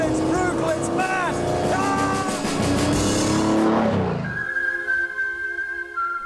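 A British racing car's 6-litre V12 roars loudly at close range, its pitch rising and falling through revs before cutting away to a thinner, steadier tone, with a voice briefly heard over it.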